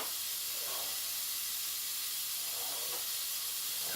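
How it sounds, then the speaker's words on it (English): A soffritto of chopped carrots, onions and celery with bay leaf hisses in hot oil in a pan, a steady, even sizzle with no voices over it. "some oil in a nice hot pan. And then we're going to introduce our soffritto, carrots, onions, celery, some bay leaf in there as well"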